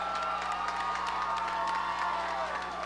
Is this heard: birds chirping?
no